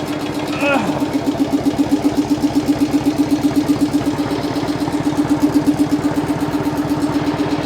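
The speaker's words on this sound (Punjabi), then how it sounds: "ਇੱਕ ਆ ਸਲੈਂਸਰ ਦੂਜਾ ਲਾਇਆ ਪਿਆ ਜ਼ਿਆਦਾ ਆਵਾਜ਼ ਕਰਦਾ ਇਹ" A Swaraj 720 tractor idles steadily with a loud aftermarket silencer, its rapid even exhaust thump continuing throughout at close range, with a brief higher tone near the start.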